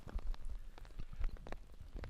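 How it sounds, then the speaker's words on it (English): Rain patters on a golf course in soft, irregular taps against the surface, steady and faint, with no voices over it. "It's raining."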